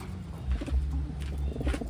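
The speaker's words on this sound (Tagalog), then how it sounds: "Ayan, yung mga ibon." Pigeons coo softly in low, throaty, repeated calls, close by, overlapping one another.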